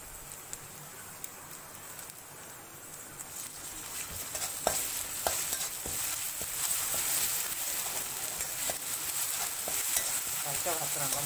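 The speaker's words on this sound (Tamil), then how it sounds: "வெங்காயம் நல்லா வதங்கட்டும்." Onions with ginger and garlic frying for a mutton kola urundai curry, a continuous close sizzle that grows louder, with frequent scraping stirs of a spoon in the pan and no talking.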